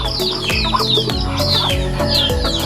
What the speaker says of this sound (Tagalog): Ito naman yung inahin. Ito ang kanyang sisiw.